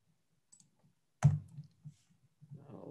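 A computer mouse used to click and drag an item in a Google flyer layout, giving a few faint scattered ticks and then a sharper click followed by soft scraping movement, close and quiet with no speech.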